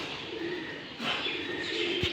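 Pigeons kept in a nest box above a goat shed on a small farm coo faintly in soft, low murmurs over a steady airy background hiss.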